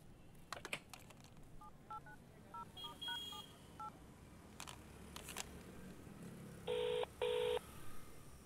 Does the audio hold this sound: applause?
no